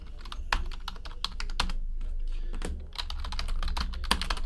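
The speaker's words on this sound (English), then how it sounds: "Let's get the hits all typed in." Busy typing on a computer keyboard while logging trading card hits, dense close key clicks running continuously with a few heavier keystrokes standing out.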